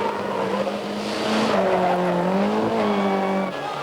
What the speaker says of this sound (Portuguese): A essência do pega é uma exibição de cavalo de pau, a virada de 360 graus.